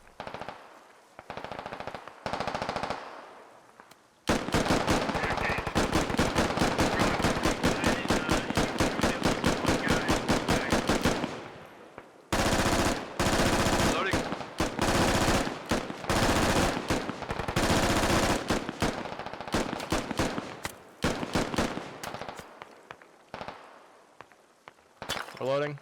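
Incoming automatic gunfire in the military shooter Squad, with long rapid machine-gun bursts cracking loudly and repeatedly, pausing between volleys, and a voice talking in places.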